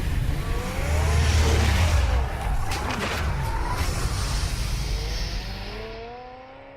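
Batmobile in the Batman Telltale video game roaring off, a loud low engine rumble with rising revs and tire noise that fades into a receding whine.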